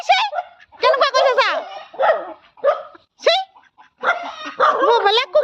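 Several dogs bark close by in sharp, uneven bursts with yips and whines, while people talk between and over the barks.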